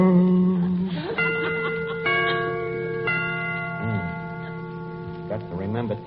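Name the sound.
clock chimes striking the time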